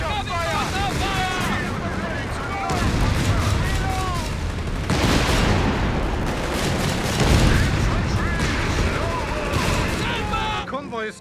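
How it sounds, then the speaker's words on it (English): Mortar and gunfire barrage in Company of Heroes 3 battle near Tobruk, loud booms and crackling shots layered densely over shouting voices and tonal game sounds, building in waves throughout. "Take up mortar fire!"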